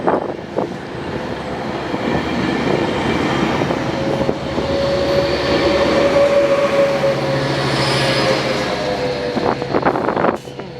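A commuter train headed to Union Station rumbles past up close at Moorpark, loud and sustained, with a long rolling roar and a faint squeal that fades as it clears.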